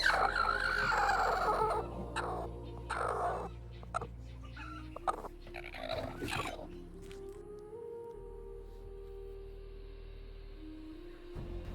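Broody hens clucking in a garden, a run of close, low clucks and murmuring calls with a steady low hum underneath, fading to quieter background sounds.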